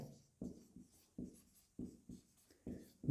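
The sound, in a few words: writing on a board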